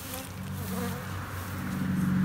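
Honey bees fly around a hive during a colony transfer from nucleus boxes, making a steady, close, low buzzing hum that holds throughout with no talk.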